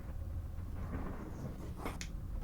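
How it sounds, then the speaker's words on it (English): Loud thunder rumbles steadily through the whole stretch, a dense low roar with a brief sharper crack near the end, and no talking over it. "When the thunder's done being loud."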